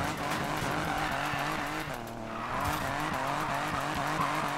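Buick GNX drifting in Need for Speed Payback, its engine droning steadily with shifting pitch as the tires slide in one long continuous skid, loud and close with no talk.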